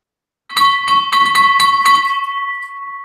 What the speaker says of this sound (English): They're pretty loud bell, too. Ring it hard.